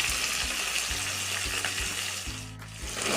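Vegetables for a spinach dish fry in a pan until reddened, producing a constant dense sizzle with a faint rhythmic low hum from the stove in the background.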